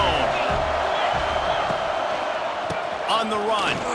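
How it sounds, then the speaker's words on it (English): A packed stadium crowd in EA Sports College Football 26 rumbles as a constant loud bed, with a few sharp thuds and whoops and a swell of cheering near the end. "this crowd ready to make its presence known"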